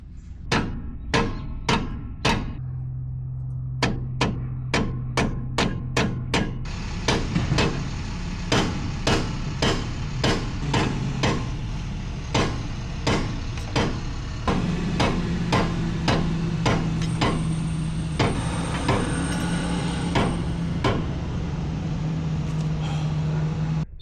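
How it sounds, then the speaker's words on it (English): A steel hammer drives a BDS 3-inch lift kit part into the axle of a 2024 Ford F-250/F-350 Super Duty, striking in loud, close, sharp blows in irregular bursts over a steady low hum. "We have to smack it in there with the hammer."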